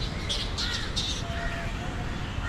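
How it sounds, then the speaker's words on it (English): A large group of bats calls outdoors on a Mombasa avenue with repeated high, sharp chirps and squeaks over a steady background of city noise. "these are bats and a whole lot of them."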